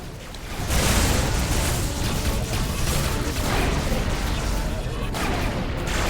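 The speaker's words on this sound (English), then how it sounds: "Missiles inbound." Incoming missiles exploding in the space combat game Rebel Galaxy, a loud sustained roar of blasts and rumble filling the whole span after a quieter opening.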